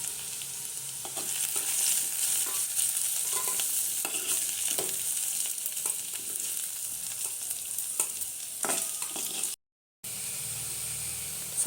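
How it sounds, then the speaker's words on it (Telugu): Tomatoes sizzle in oil in a pan for a ridgegourd chutney, a dense, continuous frying crackle with occasional stirring scrapes, close and fairly loud, briefly cut silent near the end. "టొమాటో ఇంకొక ప్యాన్లో ఫ్రై చేసుకుందాం"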